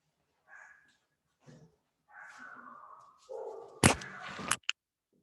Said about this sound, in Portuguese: Começou a latir os cachorros